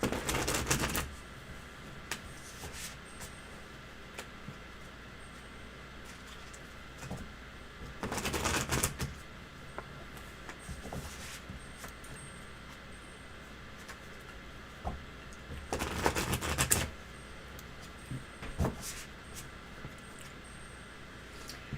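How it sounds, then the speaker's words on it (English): Three bursts of cards being shuffled, a quick riffling flutter each time, separated by quiet stretches with occasional soft clicks of cards being handled. "I'm going to shuffle and cut the cards"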